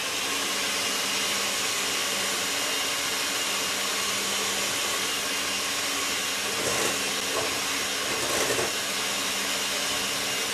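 A steady whirring electric mixer beats egg whites for meringue, running loud and continuous with little change in pitch and no talk over it.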